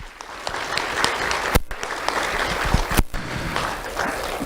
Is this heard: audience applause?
yes